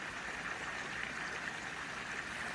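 A stream flowing beside a muddy, leaf-strewn woodland path gives off a steady, even rush of water that fills the whole moment without pause.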